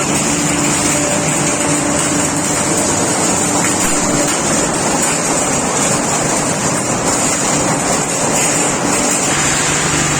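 Loud, continuous machine noise with a steady rushing, churning texture from an olive washing machine at an olive oil mill, droning unchanged throughout.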